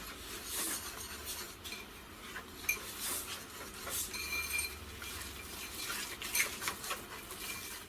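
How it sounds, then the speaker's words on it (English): Icing sugar and eggnog are mixed into a thick paste with a spoon, making quiet, close scraping and soft clinks against a bowl in an irregular rhythm. "put in 1 cup of icing sugar, confectionery sugar, and add 30 mils or 2 tablespoons of eggnog. Just mix this until you've got a yummy paste."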